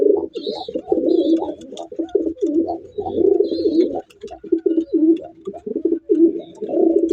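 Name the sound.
pigeons cooing, white grizzle pigeons for sale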